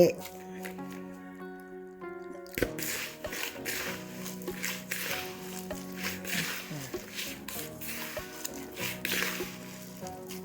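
Squeezed vegetable pulp strained through a fine-mesh sieve, with soft wet dripping and squishing as liquid drains out, close and quiet, set against a steady tonal hum.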